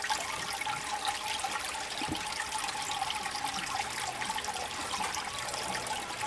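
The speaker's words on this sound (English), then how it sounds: "We'll get this sluice flowing, as we do." Water rushes steadily through a gold-panning sluice on a river, a continuous near, even wash of flowing and trickling water with no pauses.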